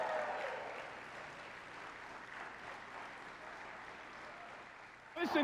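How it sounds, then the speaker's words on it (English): Stadium crowd celebrating the Chicago Cubs clinching in 2004, a broad sustained wash of cheering and applause at steady loudness, swelling near the end. "Listen to this crowd."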